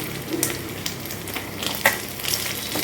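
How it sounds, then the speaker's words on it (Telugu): Pieces of fish fry in a pan with a steady, close sizzle and scattered small pops and crackles; no voices. "చేప ముక్కలు అయితే ఇవన్నీ ఫ్రై అయిపోయినాయి."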